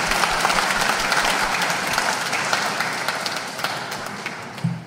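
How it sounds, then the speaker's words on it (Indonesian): Applause from a church congregation at a thanksgiving Mass marking a priest's 40th ordination anniversary, a dense, steady wash of many hands clapping that fades slightly toward the end. "Boleh kita beri aplaus untuk mereka?"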